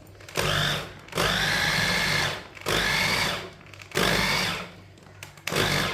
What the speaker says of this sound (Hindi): साग को ना मशीन में डाल लेंगे। साग को ना ग्राइंड कर लेंगे।